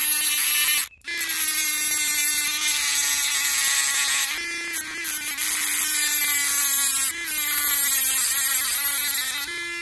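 A power cutting tool grinding through an ear clamp on an old brake line, a loud, sustained high-pitched whine that stops briefly once near the start and shifts slightly in pitch as it bites.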